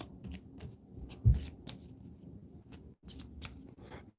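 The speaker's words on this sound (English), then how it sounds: "I learned how to shuffle cards from Penn and Teller" A deck of cards is shuffled by hand in a tabletop board game session, giving a series of quick papery riffles and soft slaps, close and crisp in an otherwise quiet room.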